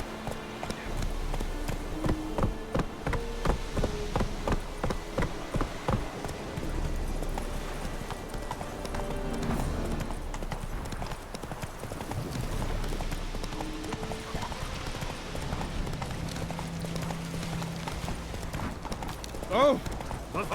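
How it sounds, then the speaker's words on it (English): In The Witcher video game, the horse Roach's hooves clip-clop steadily as it trots and gallops, loud and close, while game voices talk over the footfalls. "Whoa there, Roach"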